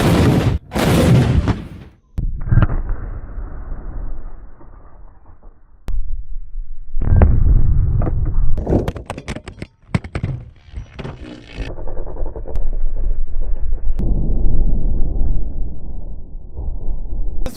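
A tank cannon firing a 76 millimeter solid steel round at a row of safes, delivering a sharp, loud blast near the start followed by a series of heavy impacts, rumbling and debris noise.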